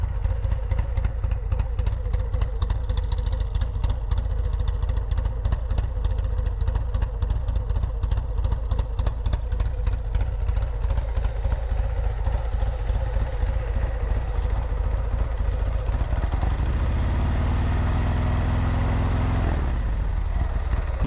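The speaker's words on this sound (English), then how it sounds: "At idle, it's got a really rough idle." A motorcycle engine fitted with a Fuel Moto 124 big bore kit and an S&S 475 cam idles roughly and loudly, its uneven lumpy pulses steady throughout before a brief rise and settle near the end.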